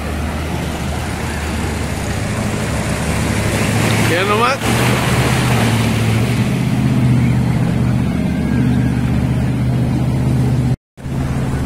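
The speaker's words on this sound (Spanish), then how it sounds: "No, están buenas las olas acá de este lado" Strong ocean waves surging at Caletilla beach in Acapulco during a heavy swell, a loud continuous roar of surf with a brief break near the end.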